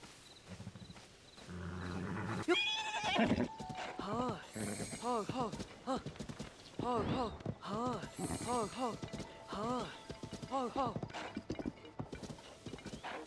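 In The Legend of Zelda: Tears of the Kingdom, game horses clip-clop steadily across the ground while a voice talks over them, with a brief neigh near the start.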